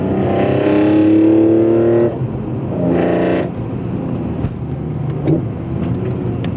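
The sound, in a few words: BMW inline six engine with velocity stacks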